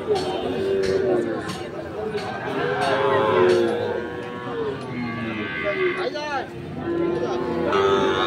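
Cattle, including Sahiwal calves, moo repeatedly among a busy crowd at a livestock market, with chatter and haggling all around; several animals call near and far.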